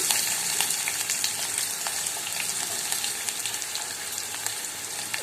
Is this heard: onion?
yes